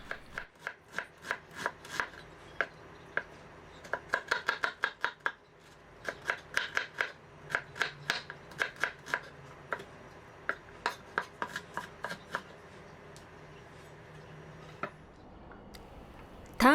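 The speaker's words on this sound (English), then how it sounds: "Chop half an onion." Half an onion being chopped with a knife on a board, a series of crisp close knife taps in irregular quick runs and pauses, fairly quiet, with no talk.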